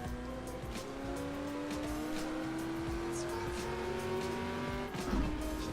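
A race car in a sim racing video game, with the Ford GT at Le Mans as the setting, whines through a turn held in second gear, its engine pitch sliding steadily upward with faint tire squeal near the end.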